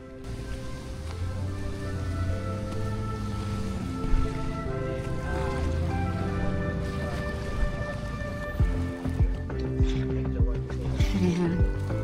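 Waves at a beach at a Boracay resort, a continuous wash of surf with scattered splashes, under people talking and a steady background hum.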